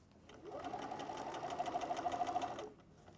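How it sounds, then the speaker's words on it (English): A sewing machine stitches fabric at the press of a foot pedal, a brief steady whirring run of rapid stitches lasting a couple of seconds, close and fairly quiet, starting and stopping cleanly. "Take it to your sewing machine, press your foot down, and sew."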